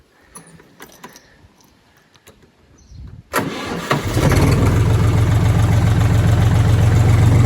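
A Lovol 244 tractor diesel engine after cylinder head work cranks briefly, catches and settles into a loud, steady rumbling idle close by, following a few quiet clicks and handling sounds.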